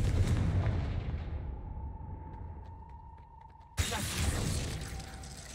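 Confringo fire spells burst in Hogwarts Legacy: a loud crackling blast that decays into a fading ring, then a sudden second sharp explosion cutting in near the end, no talking.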